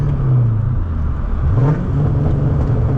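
A 500hp Cobra's engine rumbles and rises through revs on a night run, a loud, close, continuous growl that swells and eases with the throttle, with no speech.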